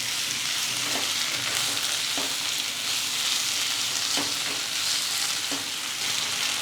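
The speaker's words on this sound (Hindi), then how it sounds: "बहुत अच्छी तरह चिकन को हमने फ्राई किया है" Garlic chicken frying in oil over a high flame, an even, dense sizzle with soft periodic stirring knocks, close and without speech.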